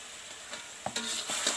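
Sugar water boiling in a pot is stirred with a spoon, giving a few scraping strokes over a steady bubbling sizzle.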